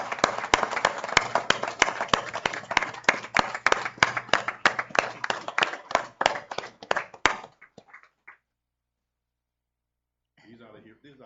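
Clapping rises at a city commission meeting for life-saving award recipients, fast irregular claps for about seven seconds before stopping abruptly into near silence, then faint muffled sound at the end.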